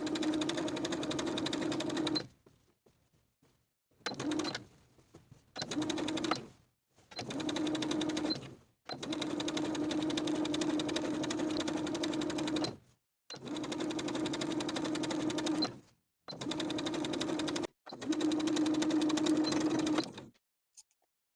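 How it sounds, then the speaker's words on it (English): A sewing machine stitches bias tape onto a vintage apron in repeated loud, even runs of steady whirring, with short silent gaps between the runs. "we're going to sew in the outer crease of the bias tape all the way from the bottom of the armhole, around the shoulder, and to the bottom edge of the strap"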